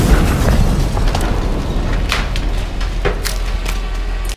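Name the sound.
explosion of a Porsche car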